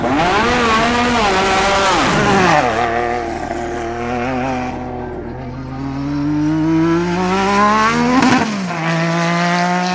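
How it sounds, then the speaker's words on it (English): A Williams FW11 Formula One car with a Honda turbo engine runs loud and close, its harmonic engine note rising and falling through several throttle sweeps and gear changes, with a dip in the middle before it climbs again. "Today we've been shaking down the Williams FW11 with a Honda turbo engine"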